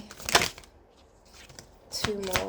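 Tarot cards shuffled by hand in quick riffling bursts near the start and end, close and crisp, with a person speaking in between.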